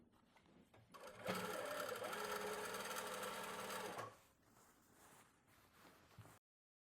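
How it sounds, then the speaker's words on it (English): A domestic sewing machine runs a fast, steady stitch for about three seconds while a waistband is sewn onto summer shorts, then slows to lighter, quieter stitching before stopping. "And I sew here in the same seam as the waistband before."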